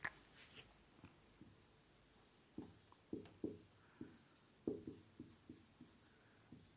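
Marker or chalk writing on a board during a physics lesson, a series of short scratchy strokes in uneven bursts, close and fairly quiet, with no talking.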